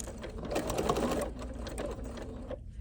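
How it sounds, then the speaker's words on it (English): Sewing machine stitching down the center seam of a fabric wristlet pincushion, a steady close whirring run that briefly eases and picks back up before stopping. "I'm gonna sew down the center seam, remove my pin"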